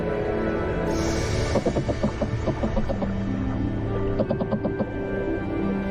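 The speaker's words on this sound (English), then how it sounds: "fish are noisily trying to woo a female." Rapid trains of short knocking pulses repeat in bursts over a steady low hum, fish calling close and insistent as males court a female.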